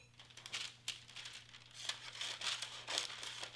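A protective sheet for a heat press being cut and handled up close, giving soft, faint crinkling and rustling with scattered snips and crackles.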